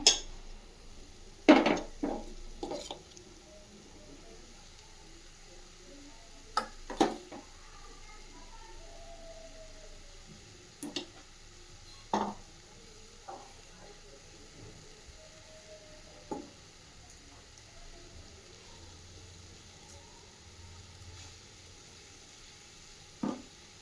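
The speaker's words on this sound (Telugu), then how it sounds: "ఇప్పుడు కాస్త ముద్దగా తయారయ్యే వరకు ముద్దగా వచ్చే వరకు బాగా కలపాలి" A spoon or spatula stirs a sesame-coconut laddu mixture with ghee in a pan. Sparse metallic clinks and scrapes ring out at irregular intervals over a quiet kitchen background.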